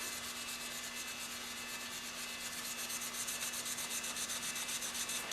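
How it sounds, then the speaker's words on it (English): Fine 4/0 steel wool burnishing a brass-coloured stain on wood, a soft, continuous close-up scrubbing hiss with quick rapid strokes, quiet and steady with a faint constant hum beneath. "So this is 4/0 steel wool"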